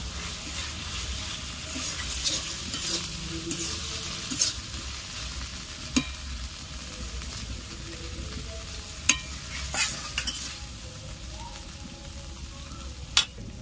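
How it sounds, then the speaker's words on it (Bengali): Spice masala with cashew paste sautéing in a pan, a steady low sizzle and stirring with a few sharp scrapes of a spoon against the pan, close and continuous, no voices. "আমার মশলা কষানো হয়ে গেছে।"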